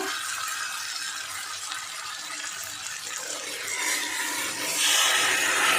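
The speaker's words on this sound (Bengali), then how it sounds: "আমি এবার হাফ বাটি মতো জল দিয়ে দেবো" Water poured from a bowl into a shrimp and snake gourd curry cooking with potatoes, a soft steady splashing and trickling that grows louder and brighter toward the end.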